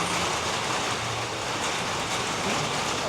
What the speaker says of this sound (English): Guys are still making the deliveries of food out here,